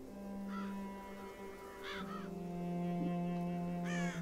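Crows caw in the video game Child of Light, several short raspy calls spaced a second or more apart over a steady low musical drone, faint and somewhat distant.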